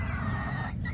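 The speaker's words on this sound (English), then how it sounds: "these are my new chickens" New homestead chickens give a brief clucking call over a low steady hum, close and short.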